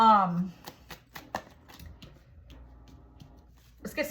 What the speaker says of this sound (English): Let me just shuffle a couple more times